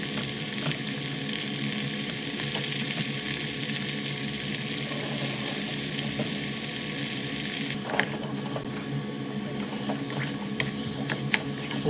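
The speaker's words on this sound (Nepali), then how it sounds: "तेलमा मासु हालेर मजाले तेललाई चाहिँ कुनेले मजाले चलाउने" Pork pieces frying in hot oil and stirred with a ladle, giving a steady, dense sizzle throughout with scraping stir noises and small crackles, the hiss thinning a little partway through.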